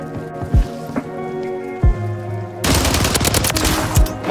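Gunfire in a first-person shooter featuring the STG-44 rifle: a few isolated thuds and shots at first, then a sudden dense burst of rapid automatic fire that dominates the end, loud and close.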